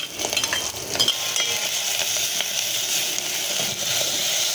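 Ginger garlic paste and masala frying in oil with onions and curry leaves for a gongura mushroom curry, a steady close sizzle with stirring scrapes and occasional utensil clinks.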